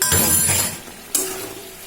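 Soybean chunks and pointed gourd sautéing in a pan, a loud steady sizzle as a spatula stirs, then a sharp clink of utensil on metal followed by quieter frying.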